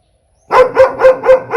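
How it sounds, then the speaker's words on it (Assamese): A puppy barking near the house, five sharp evenly spaced yaps starting after a short silence, loud and close. "নতুন পোৱালি ভুকি আছে"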